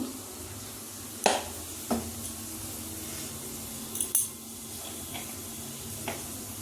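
Taro paste frying in oil in a wok, a faint low sizzle with a few sharp utensil clinks and scrapes against the pan, no talking.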